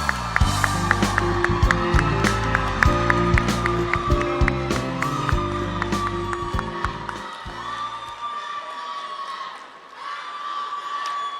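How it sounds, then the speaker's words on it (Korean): A large political party convention audience welcoming a candidate to the stage with loud sustained applause, cheering and whoops, mixed with rhythmic music and a PA announcement, fading toward the end. "한동훈 후보를 큰 박수로 맞이해 주시기 바랍니다."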